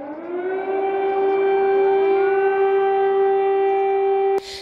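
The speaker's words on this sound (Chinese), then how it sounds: "当地时间25号再度发布防空警报" An air raid siren wails over Kyiv in a single long, steady, rising-then-level tone, loud and unbroken with no voices, until it cuts off abruptly near the end.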